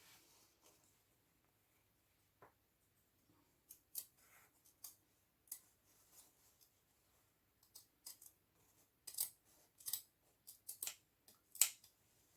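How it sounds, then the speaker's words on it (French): Large scissors snip through two layers of fabric while a summer bag is sewn, with a scatter of quiet, crisp cuts that grow denser and louder toward the end, close and alone without talk. "je prends mon gros ciseau pour pouvoir couper"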